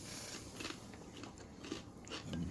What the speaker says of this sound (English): but at least we don't chew as loud